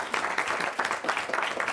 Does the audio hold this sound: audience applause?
yes